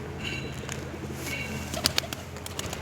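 Soft, low pigeon coos murmur steadily through a busy loft, with a few brief sharp chirps and rustles standing out near the end.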